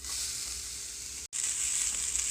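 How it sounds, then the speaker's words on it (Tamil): Grated coconut being fried over low heat in a pan for Payatham Palagaram, a soft, steady hiss of frying with one brief cut to silence partway through, close and even. "இந்த தேங்காய் பூவை லைட் ப்ரௌன் கலர் வர்ற வரைக்கும் வறுத்து எடுக்கணும்"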